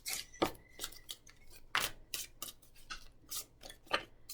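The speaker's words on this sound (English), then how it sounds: "a little more shuffling." Tarot cards being shuffled by hand for a nine-card past, present, future spread, giving a series of crisp riffling bursts at an uneven rhythm, close and fairly quiet, with no talking.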